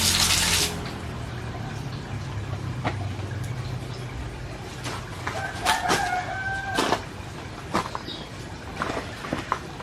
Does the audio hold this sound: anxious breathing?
no